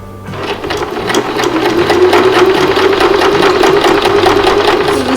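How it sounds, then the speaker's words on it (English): A sewing machine stitches pocket pieces of fabric with a close, steady whirring drone. After a brief start it holds an even, continuous run with no pauses and no voices. "now we're just gonna sew only this part, the top, the bottom, and one of the sides"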